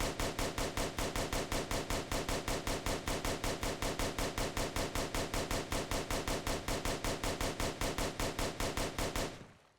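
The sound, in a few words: Thompson gun firing in Roblox Oretary video game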